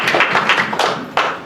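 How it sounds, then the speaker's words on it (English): Audience applause at a Veterans Day 2021 gathering, a short burst of close, uneven hand claps with a few sharper accents. "let's give a round of applause for that"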